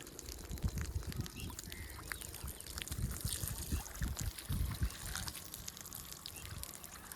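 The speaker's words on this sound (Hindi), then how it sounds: "आज दे रहा हूँ कमरे के लेंटर को जो है पानी, क्योंकि जितना ऐसे पानी आएगा इतनी जो है इसकी मजबूती होगी।" Water is poured onto a concrete roof slab to cure it. It splashes and trickles steadily, with irregular low gushes, close by and moderately loud.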